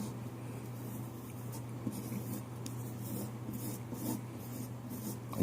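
A steel knife with no edge scrapes chromium oxide paste mixed with an emulsion across a leather strop, a continuous soft rasping rub held close and steady under a low constant hum, with no talk.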